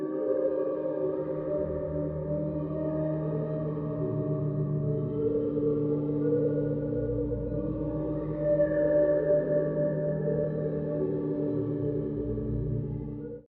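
A synth melody run through the Portal effect plugin with a preset fully wet, producing a smeared, washy sustained texture with shifting tones that drones steadily before cutting off abruptly.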